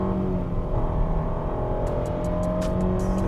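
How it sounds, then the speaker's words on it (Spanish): A loud, steady engine roar heard from inside a Mitsubishi Outlander SUV under full-throttle acceleration in Tarmac mode, with faint rhythmic clicking near the end. "Lo primero es mostrarles la aceleración."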